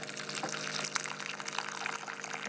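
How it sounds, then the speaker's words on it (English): Hot water pours from a dispenser onto green tea in a cup, a soft steady trickle with faint splashing that runs evenly throughout, close but quiet, with no talking. "So now I'm going to add some hot water to my green tea."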